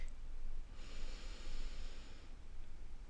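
A single slow, deep breath drawn in through the nose, a soft airy rush lasting over a second in a quiet room.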